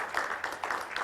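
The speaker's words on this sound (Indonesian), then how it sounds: "kita berikan tepuk tangan dulu buat mereka berdua" Wedding guests applaud the couple, a faint, brief patter of clapping in a quiet room.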